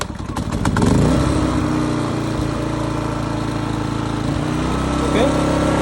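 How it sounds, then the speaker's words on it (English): A portable RV generator's small engine starts after the choke is pushed in, sputtering briefly and then settling into a steady, loud, close running drone that continues to the end. "now put the choke back in, and it should start right up here."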